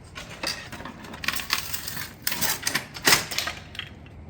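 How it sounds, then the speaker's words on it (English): A hand cutter snips through a metal roofing shingle on a cottage install, giving a run of sharp metallic clacks and crunches in short bursts, close and fairly loud. "Bring it over to the cutter."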